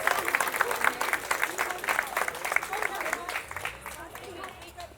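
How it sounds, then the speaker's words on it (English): Audience applause for an Order of Australia Medal recipient at the Kallista centenary celebration, steady hand clapping from a crowd with murmured voices underneath, fading slightly toward the end. "Round of applause for John Lloyd, Order of Australia Medal 202"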